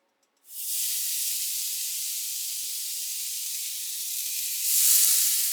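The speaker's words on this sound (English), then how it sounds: "Now that your oil is heated up, I'm going to now place my fish." Fish laid into hot oil in a pan sets off an abrupt, loud hiss after a moment of silence, a sustained close sizzle that swells briefly near the end, with no talking.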